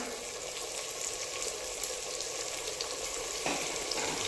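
Pavta (field bean) beans sizzle steadily in a hot pan of frying spices for pavta bhat rice, with a brief louder hiss and stir partway through as the beans go in.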